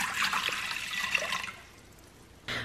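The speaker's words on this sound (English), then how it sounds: "put 2 cups of water into the bottom of the pot" Two cups of water are poured into the bottom of an Instant Pot, a close, moderately loud splashing trickle that fades after about a second and a half, followed by a brief knock at the end.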